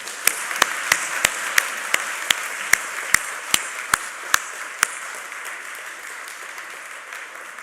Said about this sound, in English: can we just have another round of applause for our 10 finalists?